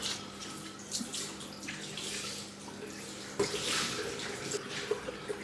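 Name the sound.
rinsing a cloth in water and squeezing it out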